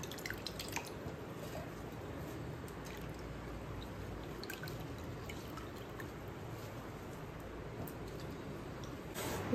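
Curry leaves rinsed under running water in a kitchen, heard as a faint, continuous trickle and patter of water with scattered drips, and no voices.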